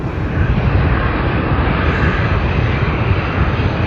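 Qantas airliner on flight QF 401 departing Sydney Airport for Melbourne produces a loud, continuous jet engine roar that stays steady and close for the whole stretch.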